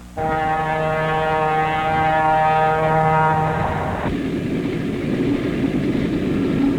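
A loud, sustained train horn blares for several seconds, then cuts off as a heavy train rumbles past close by.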